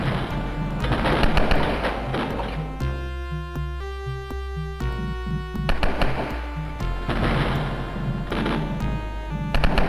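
Rapid bursts of automatic gunfire from a chain gunner enemy in the video game Atomprojekt, loud repeated cracks and thumps in dense clusters, broken by a brief tonal musical passage in the middle.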